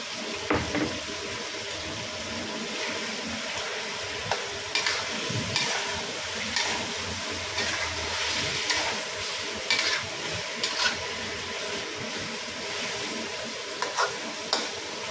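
Garlic and ginger frying for a Pakistani biryani, a steady close sizzle with scattered clicks and scrapes from stirring throughout.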